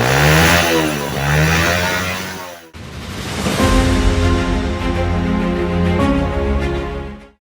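A motorcycle with a halfwave charging setup revs hard at high throttle, loud rising and falling engine howl with a brief drop before climbing again and sustaining, then stopping.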